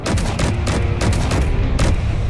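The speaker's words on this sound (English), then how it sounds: "the assault cannons opened up" Assault cannons in a sci-fi video game fire on a convoy with a rapid volley of loud, booming shots, about ten heavy blasts in quick succession, dense and close with no talking.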